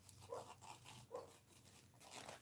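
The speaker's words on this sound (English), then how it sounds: "My dog's making noises in his sleep again." A sleeping dog makes a few soft, faint whimpering noises in short bursts, alone against a quiet indoor background.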